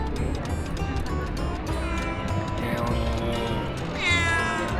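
On a street in Colombia, a cat meows with drawn-out, rising cries over a busy background, and a louder caterwaul comes near the end.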